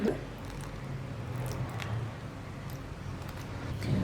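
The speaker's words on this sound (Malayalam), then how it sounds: "ഇത്രയും ചേർത്തൊന്ന് മിക്സ് ചെയ്ത് വെക്കുക" Mango pieces are stirred together with coriander powder, turmeric, salt and vinegar, making soft, wet squishing and patting sounds, close and fairly quiet.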